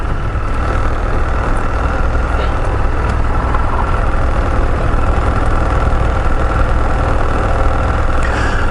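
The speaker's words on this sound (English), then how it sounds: "We just out riding on the Burgman today." A Suzuki Burgman 650 scooter on the move near Niagara Falls, New York, its engine a loud, steady drone mixed with rushing wind and road noise, unbroken and without talk.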